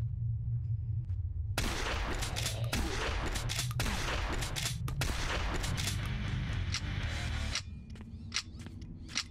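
Shotgun fire in the video game Zompiercer comes as a dense stretch of loud blasts and clatter in a tunnel, then fades to sparse clicks.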